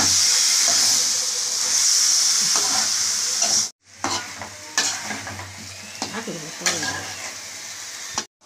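Chicken and mushroom curry stirred in a hot pan gives a steady close sizzle with scraping spoon strokes, broken by a short silence partway through before the frying and stirring carry on.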